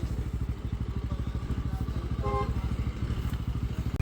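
A motorcycle with a loose chain idles close by with a fast, even rattling clatter that keeps up throughout, and a faint voice is heard in the background.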